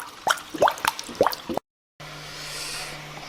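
Water drips and plops a few times while an aquarium filter is being primed, then after a brief gap a steady stream flows with a low, constant pump hum underneath.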